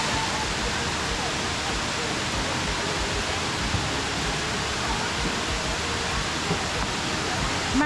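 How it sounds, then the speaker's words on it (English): Broad steady roar of falling water from a scenic waterfall near Luang Prabang, Laos, a dense constant rush filling the whole clip with no pauses. "picture perfect waterfall I've ever seen."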